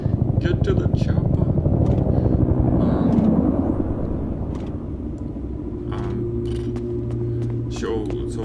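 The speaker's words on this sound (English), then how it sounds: "Is that the evac chopper? Get to the chopper." An evac helicopter in the video game Peridium makes a loud, close rumbling rotor drone that eases off partway through. A steady tone and sharp clicks from the game are heard, and someone talks over it.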